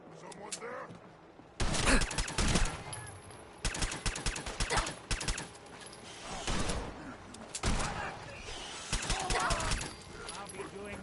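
Gunfire in the Fallout 4 video game, loud bursts of shots and rapid fusillades arriving in several clusters, close and harsh, with game voices calling out between volleys.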